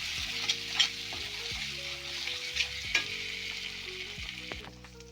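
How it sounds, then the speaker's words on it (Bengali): Masala and taro paste fry in a pan over a low flame, a soft continuous sizzle with occasional scraping bursts of stirring, close and fairly quiet. "একটু মশলাটা একটু কষিয়ে নেব।"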